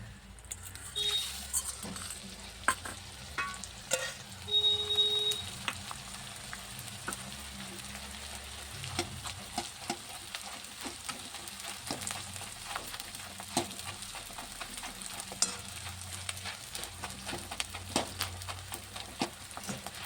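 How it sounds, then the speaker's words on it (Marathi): Edible gum (dinkh) frying in oil in a pan for ragi ladoos, a steady close sizzle and crackle running the whole time with a few soft clinks of a spoon, no talking. "आपल्याला अशा पद्धतीने हा सगळा तळून घ्यायचा आहे"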